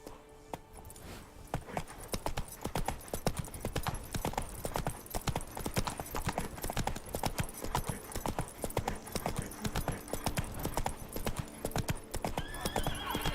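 Galloping hooves of a horse in The Witcher 3 Wild Hunt, a fast, steady clip-clop rhythm that runs throughout, with a whinny and faint game ambience beneath.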